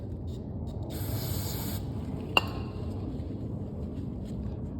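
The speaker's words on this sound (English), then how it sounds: "Go ahead and spray out those holes." Cleaner sprayed into the holes of a lawnmower part during a repair, a steady hissing aerosol burst of about a second over constant background noise, followed by a single sharp tap.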